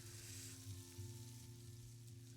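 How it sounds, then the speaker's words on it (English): Steady close sizzling of omelets frying in a hot pan, a continuous crackling hiss with a low hum underneath and no voices. "Some loud sizzling we got going on."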